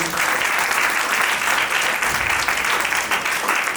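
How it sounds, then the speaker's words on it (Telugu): Steady, loud applause from a church congregation during a Sunday worship service, dense clapping filling the space for several seconds without pause. "అందులో చప్పట్లు కొడదాం ఒకసారి."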